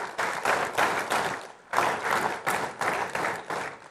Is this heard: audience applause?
yes